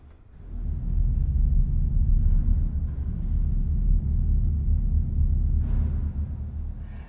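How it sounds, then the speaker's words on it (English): A deep, sustained low rumble swells in and holds steady, like distant thunder produced by low organ pedal notes sounding together. "sound simultaneously to simulate the sound of distant thunder"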